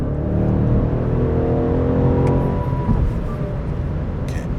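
A BMW M850i Gran Coupe's engine and exhaust drone loudly and steadily from close by, rising under throttle and then easing off as the car keeps moving.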